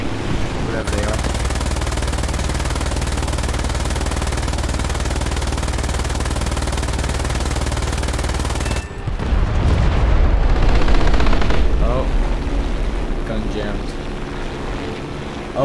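Naval ship guns in War Thunder fire in a steady, loud drone of rapid automatic shots for several seconds, then shift to heavier booming blasts and battle noise as a player talks over it.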